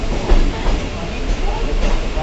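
Mumbai local train running on the line toward CST, a steady broadband rumble with low-end thumps and rattles, close and continuous throughout.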